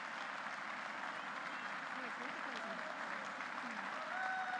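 Rolling applause from the crowd as curlers leave the ice at the Mary Brown Centre during a national curling event, a steady, distant wash of clapping with a commentator's voice over it.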